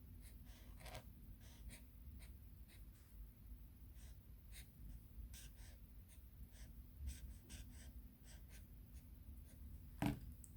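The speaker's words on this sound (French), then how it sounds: "je vais pouvoir écrire mon petit message. Mon petit message d'un côté de la carte." A pen writes a short message on a handmade Mother's Day card, giving a faint, close, continuous scratching with small taps over a quiet room background.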